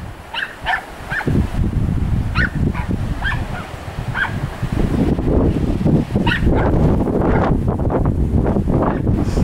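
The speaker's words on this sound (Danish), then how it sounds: "Og hundene, de er fuldstændig begejstrede." Several excited dogs bark outdoors in quick bursts, fairly close, over strong wind noise buffeting the microphone, with no one speaking.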